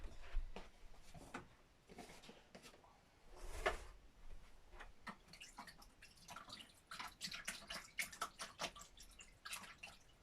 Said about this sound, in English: let me rinse it off